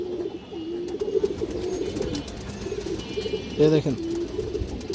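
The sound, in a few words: pigeon cooing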